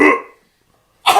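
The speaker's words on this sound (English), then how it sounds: "Whoever listens to this is just going to hear me cough for 10 minutes." A single cough, loud and close, dies away, and after a short silence a second harsh cough bursts out.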